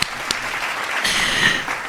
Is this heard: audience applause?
yes